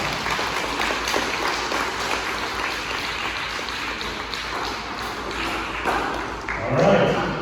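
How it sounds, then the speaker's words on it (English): A round of applause at a fifth grade celebration assembly, clapping from children and adults in a school hall with a noisy crowd murmur, continuing under talk and swelling near the end. "Let's give them a round of applause."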